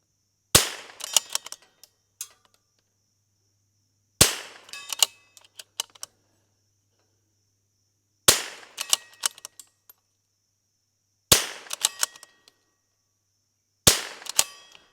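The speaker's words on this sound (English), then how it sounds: "We'll do 10 shots, and this will finish out the 200 rounds." Ten rimfire shots from a Rim-X pistol, fired in five sharp, loud pairs spaced a few seconds apart, each crack followed by a short ringing tail and small clinks.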